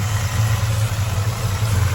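A 1964 Chevy El Camino restomod with a 350 V8 and MSD ignition idles steadily up close, a smooth low rumble with no talking and no revving.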